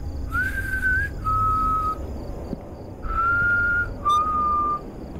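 Long, steady whistled notes from a character in the horror game Fears to Fathom, set at the Ironbark Lookout in the woods, come as four sustained tones in two pairs over a low background rumble, with no talk.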